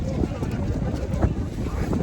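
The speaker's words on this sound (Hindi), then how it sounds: "तो ठंडी बड़ी हवा चल रही है यहाँ।" Strong, cold wind blows across a snowy high mountain pass in East Sikkim, Nathu La, buffeting close against the microphone as a steady low rumble, with a voice talking in the background.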